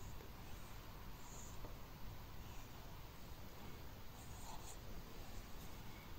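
A pen scratches out a handwritten Hebrew letter on paper in faint, soft strokes against a hiss of quiet room noise.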